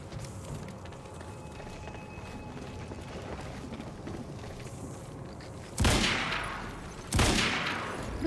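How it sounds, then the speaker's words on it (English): Carbine rifle fire in the video game Quantum Break: a rumbling, chaotic stretch of background gunfire and action, then two loud sharp blasts with ringing decay close together near the end. "Carbine rifle."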